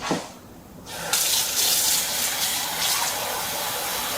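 Water is poured into a cooking pot over sugar and vinegar for pickled onions. There is a brief splash, a short pause, then a steady close gush of running water that fills the rest, with no talk.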